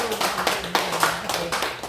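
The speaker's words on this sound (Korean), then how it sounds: "그 주님께 영광의 박수 한번" A church congregation claps during a Sunday worship service, a close burst of many hands beating in quick, uneven rhythm, loud and continuous, with no voices.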